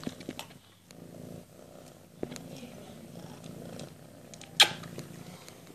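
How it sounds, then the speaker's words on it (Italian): A cat purrs steadily and close while eating, a soft continuous rumble with a brief sharper noise near the end; no talking. "Io non so se sentite le fusa che fa."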